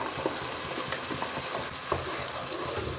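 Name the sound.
onions frying in oil with masala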